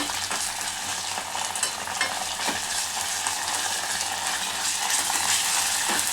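Ginger paste sizzling with onions in a pan while cooking red lentil dal, a steady broadband frying hiss with occasional stirring scrapes, close and fairly loud, no voices.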